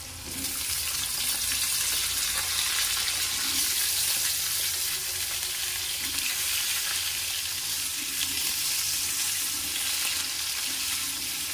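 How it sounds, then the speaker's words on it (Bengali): Potatoes fry in hot oil and are stirred around the pan, making a loud, constant sizzle with a hissing, bubbling texture throughout and no voices. "ওই তেলের মধ্যে আমি আলুগুলোকে একটু ভাজা ভাজা করে নেব।"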